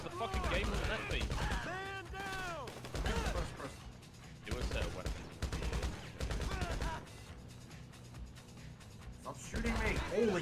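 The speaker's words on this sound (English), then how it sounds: "Stop shooting me!" Gunfire in the video game GTA V Online comes in rapid bursts and clattering volleys, mixed with ringing metallic game effects and voices, loud in spells with quieter gaps between.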